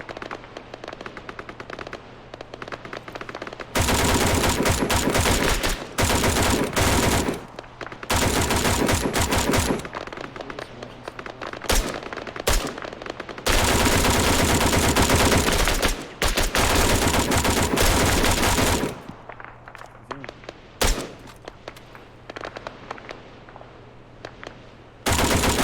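Gunfire during boat infiltration and exfiltration training, long bursts of rapid machine-gun fire alternating with short pauses and single shots, loud and sustained over the whole stretch.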